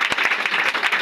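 A church congregation claps loudly together during a deliverance prayer service, a quick burst of sharp, irregular hand claps close by, with crowd noise and no clear speech.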